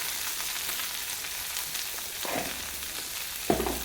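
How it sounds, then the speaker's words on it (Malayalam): Cashews and raisins fry in hot ghee for ghee rice, giving a steady soft sizzle with faint stirring scrapes and a brief clink near the end, heard alone without talk. "അണ്ടി മുന്തിരിയൊക്കെ വറവായി വന്നിട്ടുണ്ട്"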